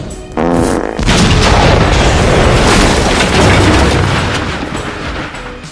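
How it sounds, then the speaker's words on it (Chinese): A flock of zombie sheep in an animated film goes up in a methane gas explosion: a sharp opening pop, then a huge, roaring blast that stays dense and loud for several seconds before easing slightly. "羊群一个小爆炸，瞬间变成了大礼花。"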